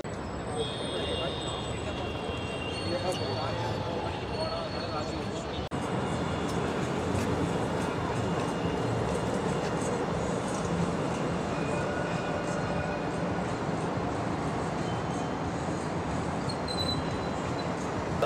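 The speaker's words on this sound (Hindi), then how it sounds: "गैस नेक्स्ट ट्रेन जो है वो आ रही है 1 मिनट में" Dubai Marina metro train pulling into a station on Eid night, a steady loud rumble and rail hiss that runs throughout with faint high squeals, while people talk over it.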